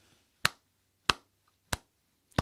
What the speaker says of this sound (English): yes, that deserves a clap